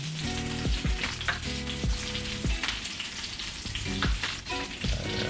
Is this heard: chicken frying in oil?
yes